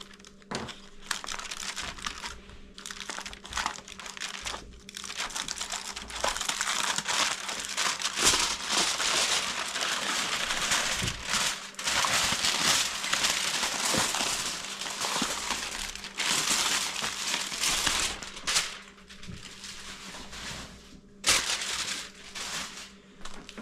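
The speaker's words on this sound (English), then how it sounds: "Let's go ahead and unwrap this." Covering is peeled off a freshly baked lasagna dish with long, continuous crinkling and crumpling close by. The noise runs in bursts with brief pauses for over twenty seconds, and nobody speaks.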